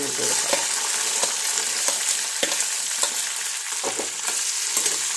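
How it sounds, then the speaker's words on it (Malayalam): Starfruit pickle ingredients sautéing in sesame oil, a close, strong, crackling sizzle with brisk stirring scrapes and taps on the pan, steady the whole time. "അങ്ങോട്ട് നല്ലെണ്ണയ്ക്കകത്ത് ഇട്ടിട്ട് പയ്യെ ഒന്ന് വഴറ്റിയെടുക്കാം"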